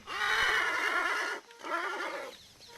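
Horses at an Arabian and thoroughbred breeding stud whinny loudly and close by in a long, shrill neigh, with a brief pause before a second, quieter neigh that trails off.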